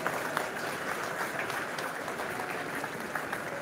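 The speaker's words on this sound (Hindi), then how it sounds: "सभी जोरदार वाली ताली से स्वागत करें।" An outdoor crowd claps at a military passing-out parade, steady distant applause spread across a wide space and sustained throughout at moderate volume.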